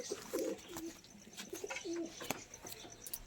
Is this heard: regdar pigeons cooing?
yes